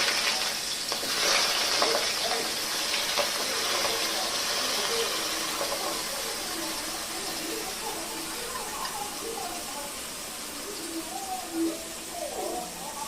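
Onion, tomato, small onions and chilli fry in hot oil with mustard seeds and cumin in a kadai for a fish curry, giving a steady broad hiss with a voice talking over it.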